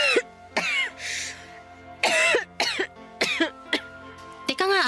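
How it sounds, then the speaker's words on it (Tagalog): A woman coughs repeatedly in short harsh bursts with brief throat-clearing between, close and fairly loud, the fits spaced irregularly across a few seconds. "napapansin ko parang ilang araw na yung ubo mo ah"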